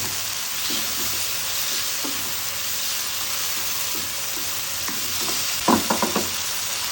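Beef tongue and mushrooms frying in a pan hiss with a continuous steady sizzle, broken by a few soft stirring scrapes and a quick cluster of clicks near the end.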